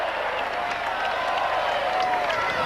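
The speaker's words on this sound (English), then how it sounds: "And the crowd enjoyed that one." A football crowd at a 1996 pre-Euro friendly between Bamber Bridge and the Czech Republic applauds and murmurs in a steady wash of distant clapping, with a commentator's voice running over it.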